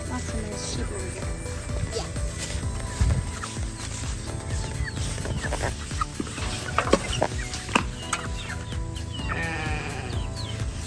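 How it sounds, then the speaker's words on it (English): Chickens cluck around a farm with sheep and other animals nearby; scattered clucks and bleats sound over steady background noise while people talk. "I'll show you my chickens."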